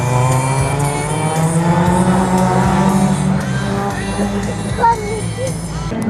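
A race car at a slalom event in Beaupréau, an engine note held steady at high revs as it runs the course, loud and close with a faint crowd murmur underneath.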